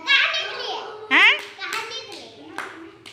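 Children clapping in a classroom after a story is read aloud, with bursts of claps mixed under a voice and classroom chatter, close and fairly loud.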